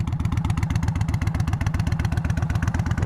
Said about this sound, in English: This is about 10-12 feet away at idle. It sounds so good,